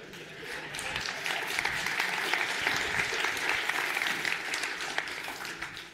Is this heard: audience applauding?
yes